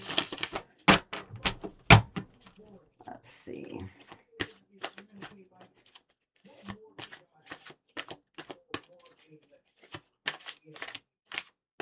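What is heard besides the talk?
shuffling large tarot cards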